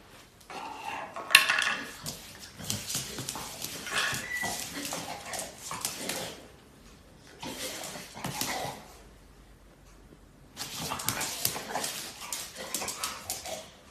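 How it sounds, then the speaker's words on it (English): A dog whimpers excitedly and dances around after getting a treat, its paws clattering in bursts against a hard floor, with a clinking like dishes mixed in. "Every time this dog receives a treat, he does a little dance to celebrate."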